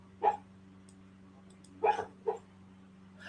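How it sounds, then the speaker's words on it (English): A sleeping dog barks and yips in its sleep during a nightmare: three short, muffled yips spaced unevenly over a few seconds against a quiet room hum, close by and with no voices. "Are we sure it's a nightmare, or is he running and chasing another dog?"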